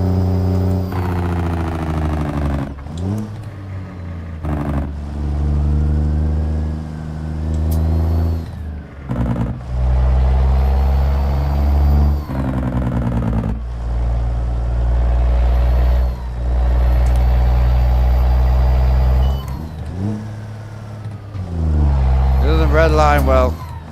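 Video game truck with an N14 engine mod, its engine revving hard through repeated gear pulls with rising harmonic whine and drops between shifts, loud and close, under occasional talk.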